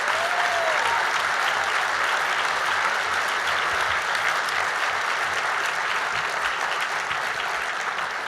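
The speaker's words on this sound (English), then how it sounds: "Give yourselves a round of applause for what you did to save the arts." An audience at an arts conference plenary in New York applauds with a steady, dense roar of clapping that runs evenly throughout and stays loud from start to finish.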